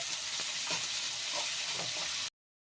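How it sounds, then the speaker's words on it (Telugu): Onions frying in a pan for a Kerala-style prawn curry, a continuous close sizzle with occasional stirring scrapes, cutting off abruptly. "ఆనియన్స్ కూడా వేసేసి ఫ్రై చేసుకోవాలి"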